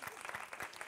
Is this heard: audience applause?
yes